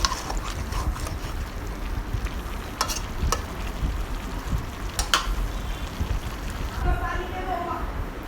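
Leafy greens and a piece of potato are tossed and cooked in a pan. A steady low sizzle runs under a rumbling background, with a few sharp clinks of the stirring utensil against the pan.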